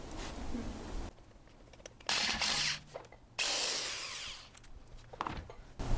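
A power drill enlarging a hole on a BMW M3 brake job whirs in two bursts of several seconds each, with scraping and grinding as the bit slips, close by.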